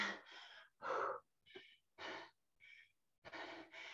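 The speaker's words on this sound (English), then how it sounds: "You can hear, you're breathing hard." Heavy, rhythmic panting from a person during a barefoot bodyweight conditioning workout with squats and hops, a series of loud gasping inhales and exhales close to the mic with brief pauses between them.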